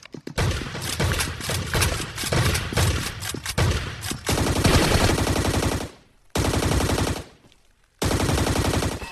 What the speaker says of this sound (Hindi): एंड देखो बताते बताते उन लोगों का फायर भी आ जाता है